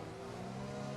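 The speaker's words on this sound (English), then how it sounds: "I love the Honda engine sound" A Honda Formula 1 car engine in the F1 2021 racing game holds a steady, loud, buzzing tone for a moment, with no other sound.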